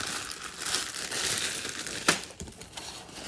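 A bag is opened one-handed: close, steady crinkling and rustling of the bag's material, with a sharper snap or tear partway through followed by softer crumpling, no talking.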